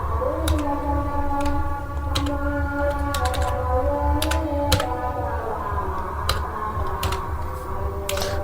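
Keys tapped on a computer keyboard while a captcha is entered at an RTO office counter, scattered clicks in short bursts over a steady low hum and tonal background noise.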